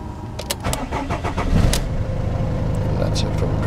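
A car cranks and fires from cold, then settles into a steady idle with a voice talking over it.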